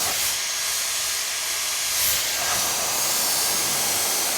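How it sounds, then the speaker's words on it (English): Hair dryer blowing on its second airflow at the highest heat setting, a steady close broadband whoosh with no break, holding evenly loud throughout. "That way we can put the hair dryer in here."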